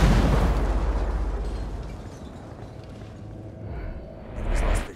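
A booming mine blast in the Tom Clancy's Ghost Recon video game, loud at first and then rumbling away over several seconds, with a smaller burst swelling near the end.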